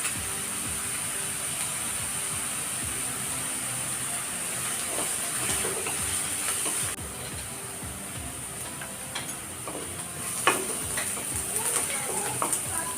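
Onions sautéing in a pan give off a steady, faint sizzle and crackle, with occasional scrapes and clinks from stirring.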